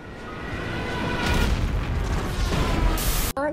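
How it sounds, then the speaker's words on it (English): A railgun hit in a multiplayer video game lands with a deep, rumbling boom that swells and holds for a few seconds before cutting off sharply. "it was just a matter of time until he managed to hit me again with a railgun"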